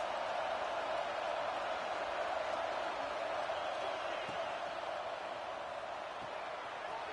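A football stadium crowd makes a dense, steady roar that holds evenly at moderate loudness for the whole stretch, with no clear individual voices standing out.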